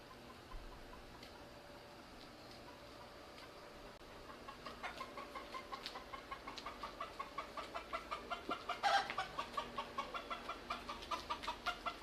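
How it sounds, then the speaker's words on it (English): A chicken clucks somewhere nearby on a Key West backstreet, a run of quick, regular clucks that grows louder and denser over faint outdoor ambience. "The noise coming from up there, there's a chicken somewhere in there."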